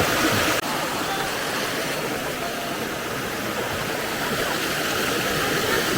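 A mountain valley stream rushes nearby as a steady, broadband wash of flowing water, loud and unbroken for the whole stretch, with no clear voices over it.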